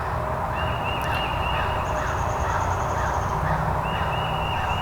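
A wild turkey gobbler in Mississippi woods, heard as one rattling gobble at a middle distance over steady outdoor background noise, with thin birdsong tones running through.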